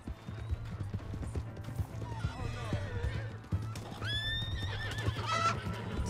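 Steady hoofbeats of a galloping horse in Red Dead Redemption II pound beneath a loud whinny, with game sound effects and a voice speaking over them.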